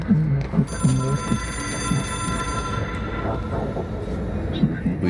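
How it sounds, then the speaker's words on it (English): An in-game telephone rings steadily in the video game Control, its thin bell tone running under a voice talking over the top. "We just gotta get to the ringing phone."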